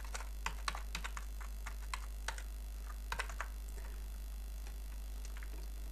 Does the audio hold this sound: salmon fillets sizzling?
no